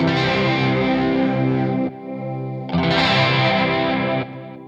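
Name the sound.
guitar chorus effect pedal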